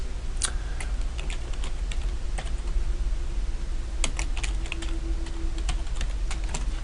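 Rapid clicking keystrokes on a computer keyboard as a name is typed in during an Active Directory setup, steady and close, with no voices.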